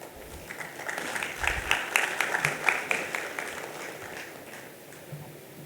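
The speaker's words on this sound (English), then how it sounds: "Can we have a thunderous applause, please?" Audience applause at a cost and management accountants' convention in Bhubaneswar, a steady wash of clapping from a large indoor crowd, moderately loud and sustained throughout with a few sharper claps standing out.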